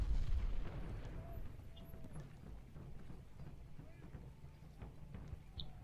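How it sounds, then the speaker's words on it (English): Cannon fire in a Gettysburg battle strategy game comes as a series of dull booms and thuds over a low rumbling battlefield bed, with someone speaking quietly over it. "And more artillery."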